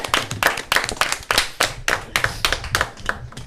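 Studio audience clapping in rhythmic, unison beats, about two claps per second, close and loud, with no talk over it.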